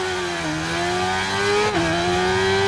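A 2017 Suzuki GSX-R 600 sport motorcycle in RIDE 5 screams at high revs with a loud, sustained engine whine. Pitch climbs steadily, then drops briefly at a gear shift before pulling on.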